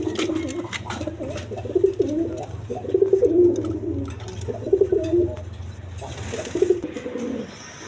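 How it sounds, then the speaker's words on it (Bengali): Red Lahori pigeons, a big-sized breed, coo in low, repeated throaty bursts close by at a pigeon farm, with faint rustling and a brief flutter near the end. "এক পেয়ার রেড কালার আপনার লাহোরি কবুতর আছে, একদম বিগ সাইজে"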